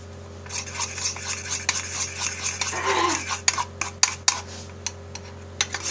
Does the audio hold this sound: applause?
no